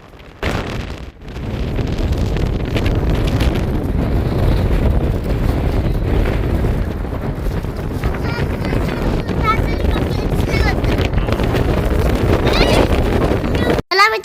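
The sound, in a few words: strong wind blowing outdoors on a trek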